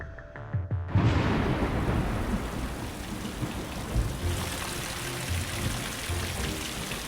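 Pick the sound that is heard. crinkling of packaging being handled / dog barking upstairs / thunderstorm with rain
thunderstorm with rain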